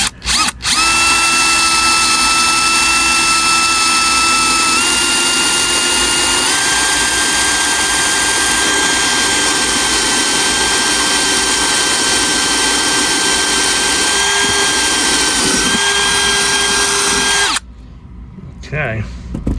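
A power drill fitted with a 5/16 brad point bit bores a hole for a squealer installation, whining steadily and loudly for many seconds before stopping abruptly near the end.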